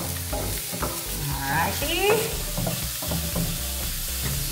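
Garlic and onion frying in oil in a pan, with a steady close sizzle and scraping stir strokes throughout, while a voice briefly speaks.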